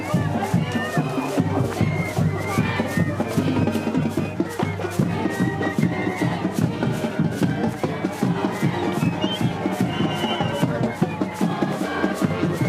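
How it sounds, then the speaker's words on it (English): Tailgating crowd gathered outdoors for an event, a dense continuous babble of many voices with scattered shouts and rhythmic claps or thumps, steady and loud throughout. "A whole crowd of tailgaters for Ryan to entice"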